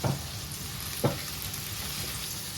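Onions and tomatoes with a pinch of salt fry in a pan, giving a steady soft sizzle throughout with a couple of brief stirring scrapes, close and fairly quiet.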